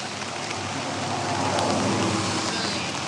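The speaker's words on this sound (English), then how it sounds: "You're actually out here in the wind and the rain right now" Rain falls outdoors at Maxwell Park on Broadway in Anaheim in rough, windy weather, a dense steady hiss of drops on surfaces, close and continuous with no talk.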